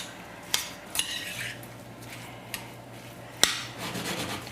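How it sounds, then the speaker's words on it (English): Metal utensil scraping and clinking against a pot of strawberry rhubarb compote, a few sharp clicks spread across a quiet, faint background with a low steady hum. "I'm going to give this a little stir"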